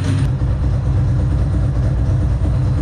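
A Ducati ST2 motorcycle engine idles steadily while its mixture is tuned, giving a continuous, even low rumble with a dense throb throughout and no voices.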